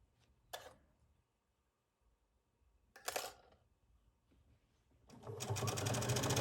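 A sewing machine hemming the sleeve of a Hawaiian shirt with a one-inch seam allowance, in two short bursts of stitching and then a longer, louder run, with quiet gaps between.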